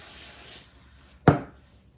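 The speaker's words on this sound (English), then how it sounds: "I'm going to spray my pan with cooking oil." Cooking oil sprayed onto a pan in a home kitchen: one short, sharp hiss of about a quarter second that fades quickly, heard close up after quiet room noise.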